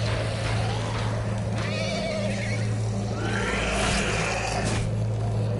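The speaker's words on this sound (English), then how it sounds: "Their horses is glitching wild." Horses neighing in The Walking Dead: A New Frontier video game, with several loud whinnies close by over a steady low engine-like drone and some hoof clatter.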